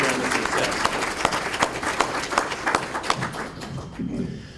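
Conference audience applauding after a program kickoff in Oahu, a thick burst of many hands clapping close and loud, tapering off near the end.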